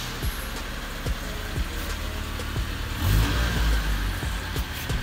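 A Honda Civic with a hole in the exhaust revs up, its engine note rising into a louder, rougher roar midway, close to the microphone with no one talking.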